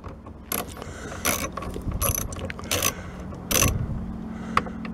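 A ratchet loosens bolts on a Chevrolet Tahoe side mirror with bursts of rapid clicking, several short runs separated by pauses and faint handling noises, close and clear.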